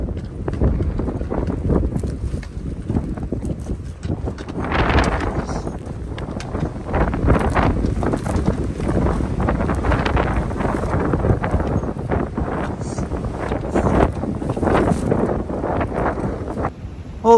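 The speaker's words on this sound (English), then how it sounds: "It's gonna be windy, just a warning" Strong wind gusts across a mountainside during an elk shed hunt, roaring and buffeting the microphone steadily for the whole stretch with no talk.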